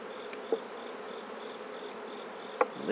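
Honeybees buzz steadily inside a crowded hive during an inspection, a close continuous drone broken by a couple of brief knocks from handling the frames, with no voices.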